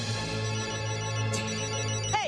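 Cartoon mobile phone ringtone playing briefly and fairly softly, a steady electronic tone with a short rising chirp near the end.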